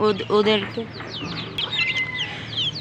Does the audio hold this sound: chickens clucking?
yes